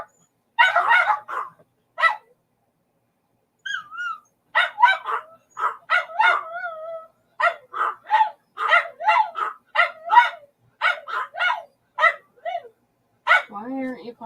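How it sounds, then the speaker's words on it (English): Several dogs bark and yip in quick, excited bursts nearby, with whiny, whimpering notes mixed in and short pauses between volleys. "You're going to hear barking."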